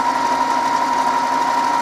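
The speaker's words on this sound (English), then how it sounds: "Your printer will now start initializing the cartridges." An Epson XP-3100 printer initializing its ink cartridges gives a steady, loud mechanical hum with a constant whine, unbroken and heard alone at close range.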